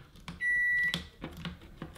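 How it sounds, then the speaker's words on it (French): A microwave oven switching on as the power comes back, with one sustained electronic beep followed by clunks and handling noises close by. "un micro-ondes qui s'allume"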